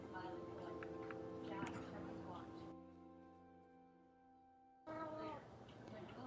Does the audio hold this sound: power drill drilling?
no